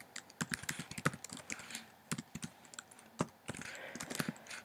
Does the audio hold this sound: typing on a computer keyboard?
yes